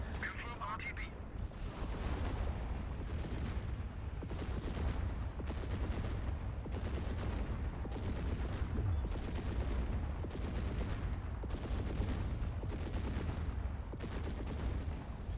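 Spaceship guns fire in steady dense barrages during a Fractured Space battle, a continuous rumbling roar of weapon blasts filling the whole stretch while someone talks over the combat.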